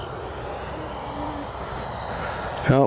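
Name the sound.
FMS F-86 80mm RC jet on landing approach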